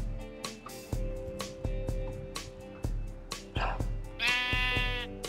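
Sheep in the video game Minecraft bleat repeatedly in short, clear calls over a steady droning game background, with sharp clicks and a louder harmonic tone near the end.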